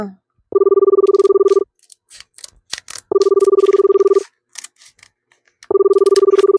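A phone call rings out unanswered: three long bursts of ringback tone, each about a second long, separated by pauses in which faint voices and small noises are heard.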